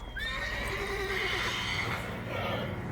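A horse in The Witcher 3: Wild Hunt neighs in a long, shrill whinny close by, with faint hoof clops and background noise underneath.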